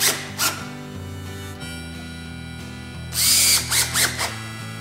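Power drill driving a screw into a wooden puzzle jig, a close, whirring motor with shifting pitch that rises to a louder burst near the end before easing off.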